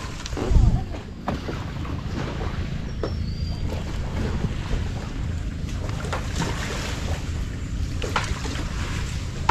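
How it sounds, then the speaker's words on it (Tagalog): Strong storm waves on Taal Lake roll and wash steadily with a low rumbling churn, while wind buffets the microphone and a sharp thump lands near the start. "lakas na alon"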